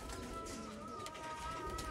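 Soft, low cooing from pigeons kept as fancy birds, faint and steady in the background with no talk.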